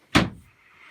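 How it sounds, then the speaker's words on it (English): A bathroom vanity cabinet door swings shut with a single close, solid thud that quickly fades, followed by a quiet room. "make sure that your cabinet door is open and shut"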